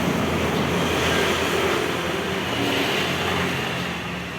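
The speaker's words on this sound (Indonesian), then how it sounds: "maaf ya berisik, ada mobil." A loud, continuous rumble of passing traffic washes over the scene, broad and noisy, fading slightly toward the end.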